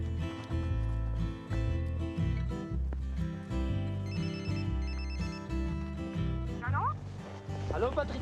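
A telephone ringtone sounds as a call is placed, a repeated electronic ring pattern over a loud background of music, with voices talking and chatter nearby.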